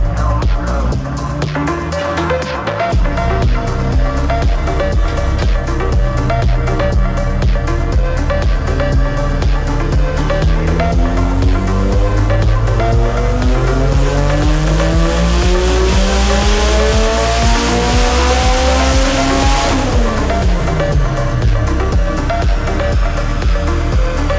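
A tuned Nissan SR20 car engine screams up to about 8,200 rpm again and again, very loud and close, rising pitch sweeping upward with sharp throttle blips.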